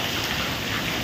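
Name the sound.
heavy rain in Thane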